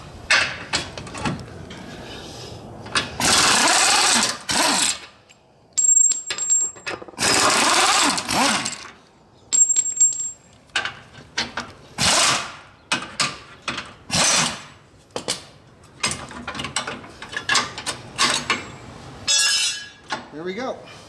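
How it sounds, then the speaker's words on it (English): An 18mm socket on a ratchet or impact tool removing a rear bumper J-hook bracket bolt on a Jeep JL Wrangler, with loud bursts of mechanical whirring and metallic clanks and rattles between pauses, close up. "We're going to use an 18mm socket to pull it off now."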